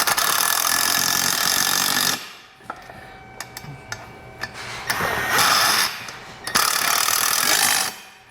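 Power tool driving down bolts on a Thule TracRac TracONE ladder rack being fitted to a 2021 Toyota Tacoma: two loud sustained whirring bursts, close up, separated by a quieter stretch of light clicks and taps.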